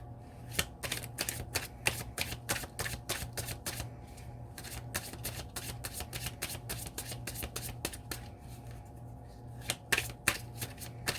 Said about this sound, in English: let me get one of these cards